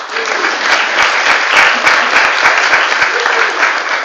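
An audience at a running club's annual general meeting bursts into loud, sustained applause after an election result, dense clapping holding steady throughout without talk.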